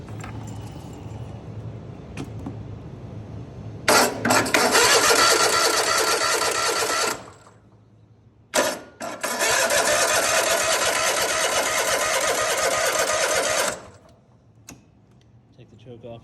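A Cub Cadet zero-turn mower engine cranks without starting in two loud bursts, the first about three seconds and the second about five, with quiet pauses and a faint hum between.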